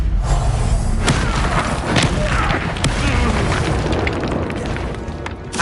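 Fiery Confringo spell blasts in Hogwarts Legacy combat, a dense run of loud booms and thuds over continuous battle noise, with sharp bursts near one, two and three seconds.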